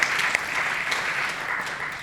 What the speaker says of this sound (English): Yes, that is worthy of applause.